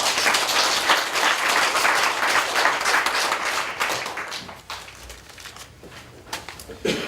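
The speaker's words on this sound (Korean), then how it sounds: "박수로 올리고" An audience at a Presbyterian pastor ordination ceremony breaks into loud, dense applause that gradually thins and fades into scattered claps.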